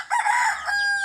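A rooster crows once on a farm where fowl are being fed, a loud, close call lasting about a second with a rising start and a long held tone, no talk over it.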